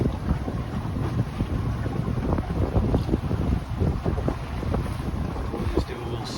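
Continuous low engine drone from a boat motoring and turning through a marina in Sturgeon Bay, overlaid with strong wind rumble on the microphone and splashing water.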